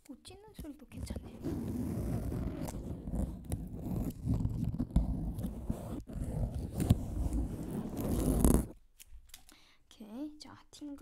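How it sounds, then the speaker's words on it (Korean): Dense, close crackling and ripping of dried autumn leaves being torn for several seconds, then a quiet gap and a soft voice. "찢는 소리도 괜찮네요."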